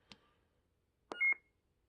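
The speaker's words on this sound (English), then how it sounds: "So if you would just hold it down for 1 beep" A Graflex lightsaber sound board gives a short electronic beep, clean and close, after a brief click from the button; a quiet pause separates them.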